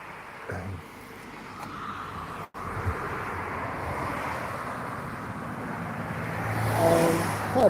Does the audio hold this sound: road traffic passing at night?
yes